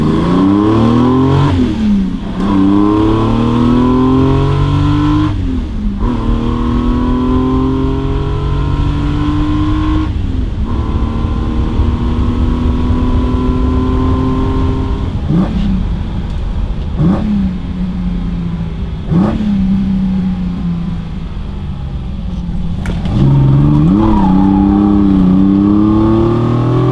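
A classic BMW engine revs hard and repeatedly, loud and close, each rise in pitch climbing through the gears before dropping back, with brief pauses between pulls and a final strong surge.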